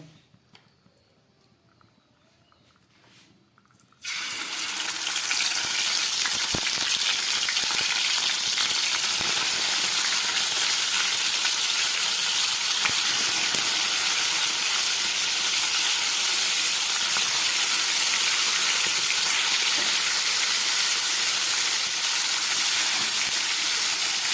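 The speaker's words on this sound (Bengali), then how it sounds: "এবার মাছটাকে আমি ভেজে নেব।" Fish frying in hot oil in a pan over a medium gas flame for a spicy fish curry: after about four seconds of near silence a loud, steady, close sizzle starts and holds without a break to the end.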